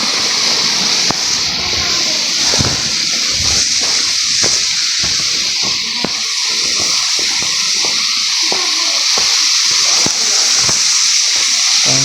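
Water pours steadily out of a pipe beside a small waterfall on a hillside trail, giving a continuous close splashing gush with a broad hiss that runs unbroken and loud throughout, with no talking over it.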